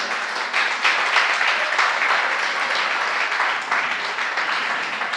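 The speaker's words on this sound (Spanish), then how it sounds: "Dale un fuerte aplauso al Señor" Loud, continuous applause from a church congregation during a sermon, many hands clapping in a thick, even wash that holds steady from start to finish without any voices.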